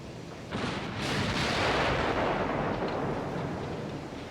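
Battleship artillery in Ultimate Admiral: Dreadnoughts booms out as a heavy distant blast swelling into a rolling thunder-like rumble that slowly fades, quiet overall with no talk.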